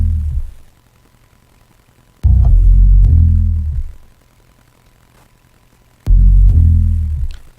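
Pitched-down, chopped bass sample: deep booming throbs in three separate bursts, each one starting with a sharp click and then fading, with near silence between them.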